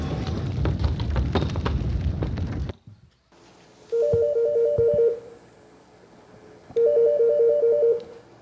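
A telephone rings at a 119 emergency call centre during an earthquake safety drill. Two separate bursts of electronic ringing, each about a second long, follow a stretch of loud rumbling noise.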